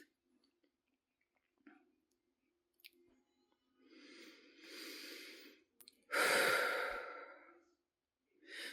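Slow, deep breaths during a guided healing meditation, heard close and quiet: a soft inhale followed by a longer, louder exhale like a sigh, with small clicks and mouth sounds between.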